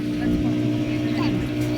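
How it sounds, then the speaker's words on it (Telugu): Motorboat ride off Yanam beach, with a steady low engine drone and water rush holding at an even, loud level throughout, while voices talk over it. "ఇక్కడతో మన మోటార్ బోట్ రైడ్ ఎండ్ అవుతుందండి"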